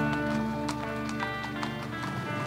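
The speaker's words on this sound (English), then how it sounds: "We've got the horses as well now." Horses' hooves clip-clop steadily at a fox hunt, a rapid run of hard taps over a constant low drone, moderately close with no talk.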